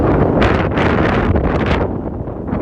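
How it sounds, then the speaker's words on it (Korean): Strong outdoor wind buffets the microphone at a country house with a yard and a view. The roar is loud and continuous and surges in gusts throughout. "바람이 많이 불어서 제 목소리가 잘 안 들릴 수도 있는데"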